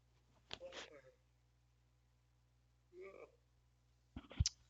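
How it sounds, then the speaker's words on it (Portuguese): A person yawns repeatedly in a quiet room, with long breathy drawn-out exhalations spaced a few seconds apart, the last ending in a brief vocal squeak. "não sei porque eu tô bocejando tanto"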